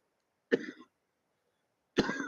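Two close, sharp coughs from one person, separated by about a second and a half of silence, the second cough cut off at the end.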